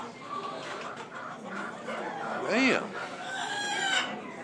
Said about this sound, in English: Rooster there